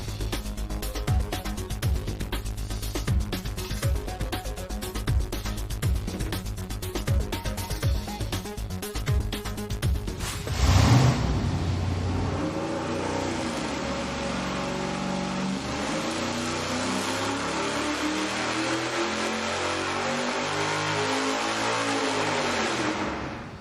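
A naturally aspirated engine runs on a dyno with large headers whose tubes step from 1 3/4 to 1 7/8 inch. A loud, buzzing idle surges sharply into a sustained high-rpm roar with shifting engine harmonics, and no one speaks.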